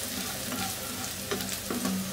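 Finely chopped garlic, three cloves, sizzling in hot oil for a lentil dal with coconut milk, a steady close crackling hiss with a few soft scrapes, no voices.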